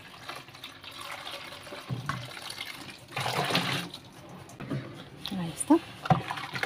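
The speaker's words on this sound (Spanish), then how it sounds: "Voy a usar un litro de agua para enjuagar mi tina." Water is poured into a tub to rinse it while making homemade liquid laundry soap with fabric softener and dye, a soft splashing pour of about a litre that swells midway, with brief clinks and handling sounds around it.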